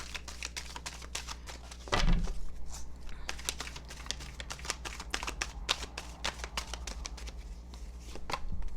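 Tarot cards are shuffled by hand in quick, crisp riffling flicks, close and steady throughout, with a soft thump partway through and a low background hum and no talking.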